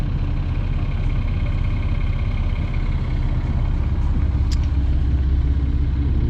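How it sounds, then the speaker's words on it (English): Boat engines rumble steadily on a vessel fitted with outriggers, a loud, continuous low drone with no talking and one faint high blip midway. "You hear the engines from here."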